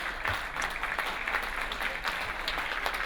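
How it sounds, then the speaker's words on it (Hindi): Enthusiastic audience applause at an Urdu poetry gathering in Dubai, a continuous dense wash of many hands clapping at steady loudness, filling the whole moment without talk. "एक बार ज़ोरदार तालियां"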